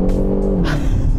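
A Kia Proceed GT's 1.6-litre engine revs in sport mode, a loud, steady, close engine drone with a rising note and exhaust rasp through the whole short burst.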